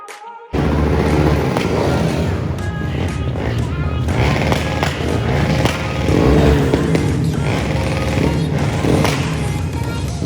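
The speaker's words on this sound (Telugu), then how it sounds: "బైక్స్ చూసారా అసలు ఎంత సౌండ్ చేశాయి కదా" Loud, continuous roar of motorbikes passing on a Glasgow city street, heard from a tour bus; the dense engine noise starts suddenly and stays strong throughout, with faint voices underneath.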